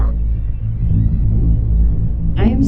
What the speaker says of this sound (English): I started to hear something, a low, droning sort of hum.